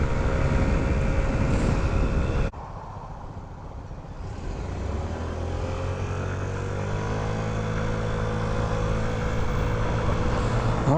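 A Honda Ruckus scooter rides along at speed, its small engine droning loud and steady with a rising pitch as it accelerates after a brief drop in level, wind rushing throughout.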